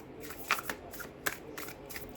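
Moonology Oracle cards being shuffled by hand, with a few quick soft riffles and flicks of card stock close up and alone.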